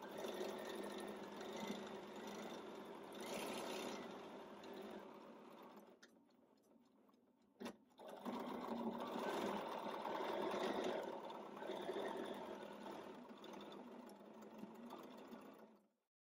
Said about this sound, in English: In mode 1, your machine will sew continuously, even when your fabric is stationary, and will secure stitches in place.